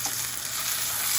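Karimeen, the pearl spot fish, fries in a pan with a continuous bright, crackling sizzle of hot oil at a steady, moderate level, without voices.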